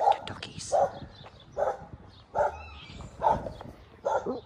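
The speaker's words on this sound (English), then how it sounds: "Oh, I've disturbed the neighbor's doggies." Neighbourhood dogs bark and yip in a steady series of about six short, evenly spaced barks, moderately distant, with a few faint whimpers between them.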